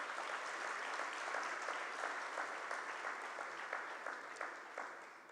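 Audience applause fills an awards ceremony hall, a steady patter of many hands clapping at moderate distance that holds evenly for several seconds before starting to taper.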